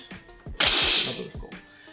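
A modernized Kalashnikov machine gun dry-fired: a few dull mechanical clicks, then a sharp metallic snap of the trigger release followed by a hissing rattle that fades, one last click trailing after.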